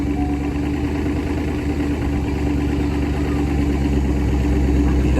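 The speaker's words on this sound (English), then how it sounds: "Oh, Chris, I hate to say it, but I think it sounds better than the red one." Barn-find Corvette C4 ZR-1 engine idling steadily nearby, a deep continuous rumble that holds even and moderately loud throughout, with no talking over it.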